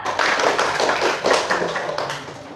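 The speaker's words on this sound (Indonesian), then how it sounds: "Iya benar, tepuk tangan anak-anak." Children in a classroom clap their hands together during a religion lesson, a loud, close, continuous patter of many small hands with slight surges, alone without talk.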